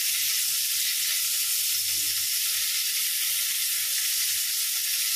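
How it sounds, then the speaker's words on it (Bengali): Young pointed gourd (potol) fries in a pan with salt and turmeric on a weak stove flame, giving a steady, even hiss of sizzling oil with no talk. "ততক্ষণে পটলটা ভেজে নিই ভালো করে।"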